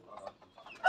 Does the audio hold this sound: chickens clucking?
yes